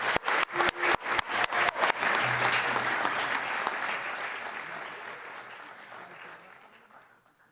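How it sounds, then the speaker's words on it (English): Applause from a school athletic awards audience for a student award recipient, opening with a few loud separate claps that swell into sustained clapping, then gradually fade away. "So big round of applause to Bishal Das."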